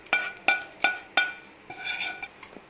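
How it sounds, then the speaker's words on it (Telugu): A spoon stirs hot sugar syrup into fried dry fruits for laddu in a metal pan, with four evenly spaced ringing clinks followed by softer scraping and clattering, close and loud. "ఈ పాకం అంతా డ్రై ఫ్రూట్స్లోకి బాగా పట్టేలాగా కలుపుకోవాలి."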